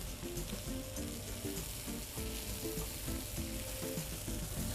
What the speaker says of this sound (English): Nice sear on the scallops.